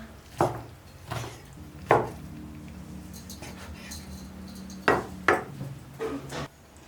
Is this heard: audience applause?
no